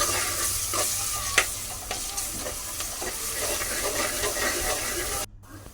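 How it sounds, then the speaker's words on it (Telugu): Ginger garlic paste and turmeric frying in a pan for chicken curry, a steady sizzle with occasional stirring scrapes throughout, then cutting off abruptly near the end. "ఇప్పుడు కొంతసేపు ఫ్రై చేసుకున్న తర్వాతకి జింజర్ గార్లిక్ పేస్ట్ అయితే వేసేసుకోవాలి అలాగే పసుపు కూడా వేసుకొని కాసేపు మిక్స్ చేసుకోవాలి"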